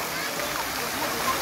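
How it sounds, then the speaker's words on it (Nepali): A park fountain shoots water about 14 feet into the air, a steady broadband rush of falling spray that stays even and fairly close, with no break across the short stretch. "यो पार्कको फुवाराले 14 फिट माथि पानी for for for for for for for गरिरहेको तपाईँ देख्न सक्नुहुन्छ"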